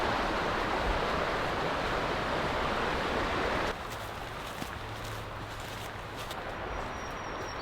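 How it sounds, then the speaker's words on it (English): Creek water flowing beside a hiking trail, a loud broadband rush that suddenly drops to a quieter, steadier trickle partway through, with a few faint footstep-like taps and no talking. "walking right next to the creek"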